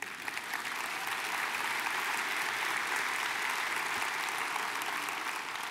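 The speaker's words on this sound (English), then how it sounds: "I'm glad you clapped." A church congregation claps together in steady, sustained applause that fills the room evenly for several seconds, with no voices over it.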